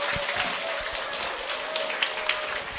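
A seminar audience claps to welcome a speaker to the stage, a dense, steady wash of many hands that holds at a moderate level for the whole stretch, with a faint tone running underneath.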